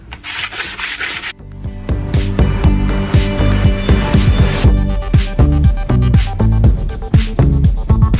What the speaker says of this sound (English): sometimes it's just giving it a light sanding to get the stuff off